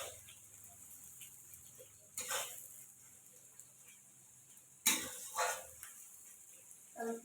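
Onions frying in a pan during rooftop home cooking, with turmeric being added: a faint, soft sizzle with a couple of louder scraping stirs against the pan and light clinks in a quiet outdoor setting.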